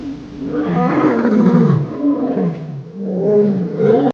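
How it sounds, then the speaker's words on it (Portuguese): A wild lion gives a low, rumbling growl of surprise, loud and close, sustained over several seconds with a brief dip in the middle and no talk. "O leão não teve tempo de reagir. Um rosnado baixo, não de dor, mas de completa surpresa."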